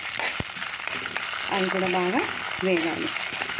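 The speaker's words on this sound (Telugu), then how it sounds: "ఇప్పుడు కొన్ని ఎండుమిరపకాయలు వేయాలి. అవి కూడా బాగా వేగాలండి." Hot oil sizzles and crackles steadily in a pan as dried red chillies fry, with someone speaking briefly over it.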